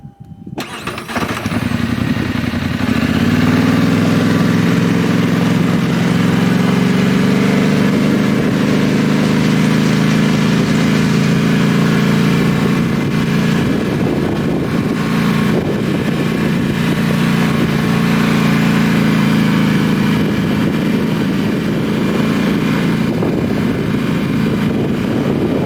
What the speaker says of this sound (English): It's going to be a little noisy from the quad.